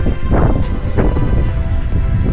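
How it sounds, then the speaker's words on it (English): Strong wind buffets the microphone in loud, continuous rumbling gusts, with rain, high on a hilltop at Cheddar Gorge. "It's windy and it's rain."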